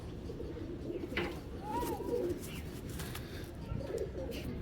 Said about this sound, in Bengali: হেভি শক্তিশালী কবুতর